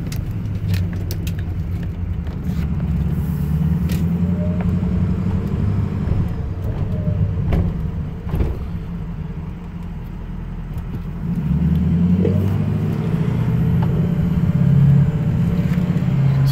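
Ford 6.0 Powerstroke diesel engine idling with a steady low rumble, heard close, then revving up louder toward the end before settling again.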